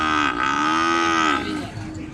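A heifer calf moos once in a long, loud, drawn-out call with a slight rise and fall, close by at a livestock market, with no talking.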